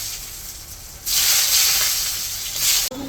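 Potato pieces hit hot oil in a kadai just after rohu fish was fried, setting off a sudden loud, sustained sizzle and hiss that runs near and steady before a brief cut.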